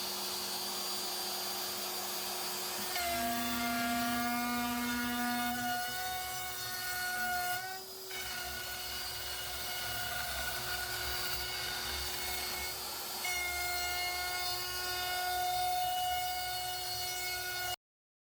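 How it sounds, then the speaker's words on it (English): A CNC router spindle runs while a guitar fretboard is being machined, producing a steady high-pitched whine that shifts pitch several times over roughly eighteen seconds, with a low mechanical hum beneath. "So turn on my spindle."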